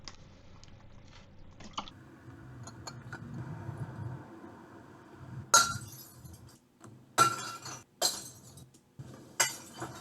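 Glass bottles dropped into a recycling bin: several loud, sharp crashes of breaking and clinking glass, a few seconds apart, after quieter rattles and street rumble.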